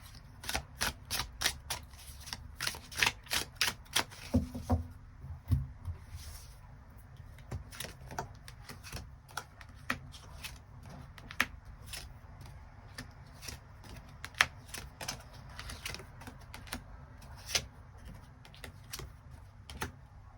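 Tarot cards shuffled and drawn on a table, a rapid burst of crisp riffling clicks at the start followed by scattered single snaps and slides, close and quiet, with no talk.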